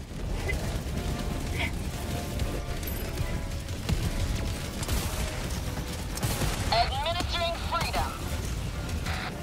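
Artillery barrage in Helldivers 2, a dense stretch of rumbling explosions and crackling fire running steadily throughout, with mechanical clatter and a voice talking over parts of it.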